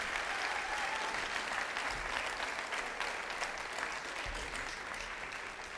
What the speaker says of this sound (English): So why don't you give them all a round of applause.